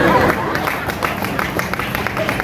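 Audience at a grand poetry recital (kavi sammelan) at the NTPC campus in Kahalgaon, Bhagalpur, claps loudly: a dense, steady patter of many hands running under a murmur of voices throughout.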